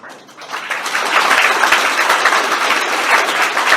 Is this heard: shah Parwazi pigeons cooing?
no